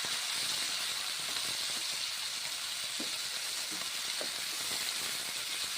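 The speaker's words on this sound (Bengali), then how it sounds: "ভেজে নিচ্ছি পনিরগুলো এইভাবে, মশলা দিলাম কড়াইয়ে, ছেড়ে দিলাম, ভেজে নিচ্ছি মশলা এবং পনির।" Paneer and spices fry in a wok, giving a steady, fairly soft hiss of steam and sizzle nearby, with a few faint clinks and stirring sounds rising briefly above it.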